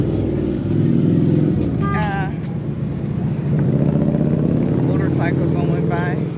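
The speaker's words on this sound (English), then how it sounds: "Motorcycle going by." A motorcycle rides past on a Kansas City, Missouri street, its engine rising loudly nearby amid a steady traffic rumble, with brief voices over it.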